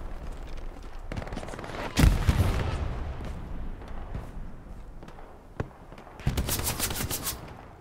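Machine gun fire in Hell Let Loose crackles in a couple of rapid bursts with a loud boom partway through, sounding from a short distance at a town in Sainte-Marie-du-Mont.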